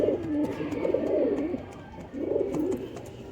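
Dub-breed pigeons coo close by in two rolling, throaty bursts separated by a short pause, with faint background noise and no talking.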